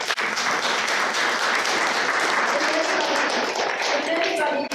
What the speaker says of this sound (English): affirm this 2023 budget by applause